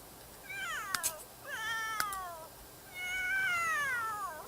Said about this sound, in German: Außer die Katzen, die schreien wieder